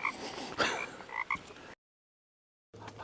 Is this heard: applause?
no